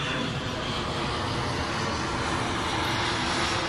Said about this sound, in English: I think we're going to get interrupted by one of those aircraft that we get